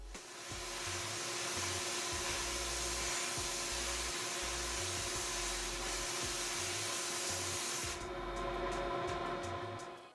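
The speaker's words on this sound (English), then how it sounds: "We're going to go with our 1000 Shot Blast." A VH1000 shot blast machine fires steel shot at an aluminum part, producing a loud, continuous hissing roar with a rapid pulsing rattle underneath, before the blast cuts back near the end.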